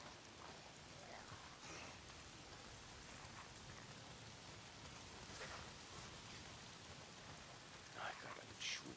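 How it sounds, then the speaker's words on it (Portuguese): Steady rain pours down continuously in the video game Days Gone, a dense hiss of drops with no voices. "Se não são os frenéticos, é essa merda de chuva."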